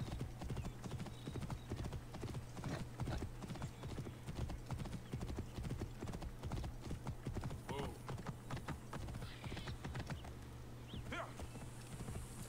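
Horse hooves clip-clop in Assassin's Creed Origins, a fast, steady rhythm of hoof strikes running throughout with an occasional whinny, under a constant low hum and a person talking over the gameplay.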